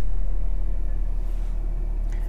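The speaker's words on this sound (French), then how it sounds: "Donc, moteur tournant." A 2021 Mercedes Sprinter van's engine idles with a steady, close, low rumble and no voices.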